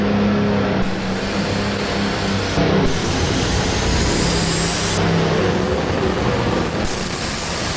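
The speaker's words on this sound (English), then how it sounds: "Another diesel tractor here on the line." An Allis-Chalmers 7700 diesel super stock tractor pulling at a 1999 NFMS event in Louisville, Kentucky, a loud sustained engine roar with high turbo whine, steady and dense throughout, heard close from the track.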